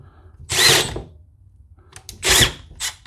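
A Milwaukee M12 subcompact drill running at speed 2 whirs in two short, close bursts separated by a pause, with a brief third spin at the end.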